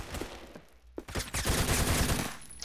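Rapid bursts of gunfire in the Roblox game Phantom Forces crackle loudly, several shots in quick succession filling the short clip.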